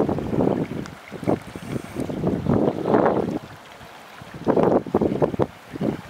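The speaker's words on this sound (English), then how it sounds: "So maybe there won't be so much wind." Wind gusting in a sheltered coastal cove at Seltun, buffeting the microphone in uneven, rumbling surges that rise and fall over several seconds.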